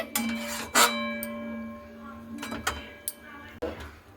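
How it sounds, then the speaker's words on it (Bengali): A spoon stirs sugar into vermicelli payesh in a pot, giving a few sharp metallic clinks and scrapes spaced across a quiet kitchen, with a voice talking underneath. "তো চিনিটা দিয়ে একটু নাড়াচাড়া করে নিচ্ছি।"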